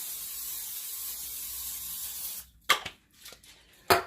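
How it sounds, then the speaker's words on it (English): Steady background hiss gives way to a few sharp, short spray bursts of cooking spray, close and loud, separated by brief pauses. "I'm just going to spray this with my spray."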